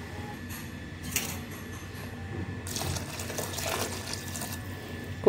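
Water is poured into a pressure cooker holding white radish kurma with ground coconut paste, a steady splashing, trickling flow of liquid that swells partway through, heard close and alone with no talking.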